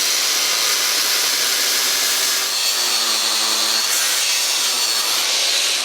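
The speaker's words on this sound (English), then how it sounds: "the first thing we need to do now is just grind it off and then weld it on." An angle grinder cutting off an old part on a David Brown tractor, a continuous harsh, loud metallic grinding held steadily and close for several seconds with no talking.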